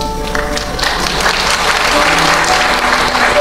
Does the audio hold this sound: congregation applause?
yes